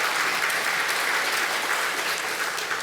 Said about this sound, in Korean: 박수까지 쳐주시고